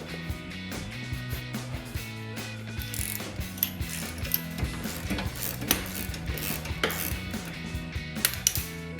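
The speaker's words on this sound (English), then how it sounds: "take your 15 millimeter socket and ratchet and just take the lower shock bolt loose" A 15 mm socket and ratchet loosening the lower rear shock bolt on a 2005-2014 Ford Mustang, with steady rapid ratchet clicking throughout, close and fairly loud, with no talking.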